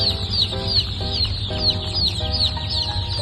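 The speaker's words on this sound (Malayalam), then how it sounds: "ഒറിജിനൽ കരിങ്കോഴി കുഞ്ഞുങ്ങളാണ്" Kadaknath black chicken chicks peep in a rapid, high chorus of many overlapping chirps, close and constant, with a low hum underneath and no talk.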